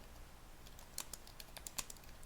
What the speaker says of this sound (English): You hear the clicking and clacking on the keyboard.